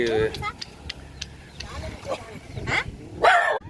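A dog barks and yips several times in short irregular bursts, close by at a nomad tent camp, with voices and traffic noise in the background.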